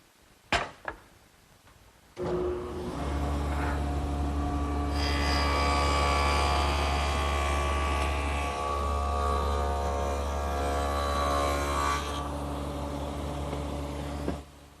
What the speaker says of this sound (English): I've now installed the stacked dado head cutter in the table saw